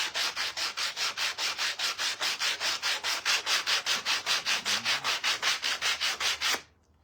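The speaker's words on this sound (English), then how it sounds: "scrub this a little bit with some sandpaper." Sandpaper scrubs back and forth over a piece of wood in quick, even strokes, about thirty rhythmic rasps at close range that stop abruptly, with no talking.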